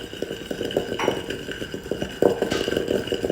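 A spoon stirs amla with turmeric in a bowl, giving light, close clinks and scraping taps in an uneven rhythm, with a sharper knock partway through.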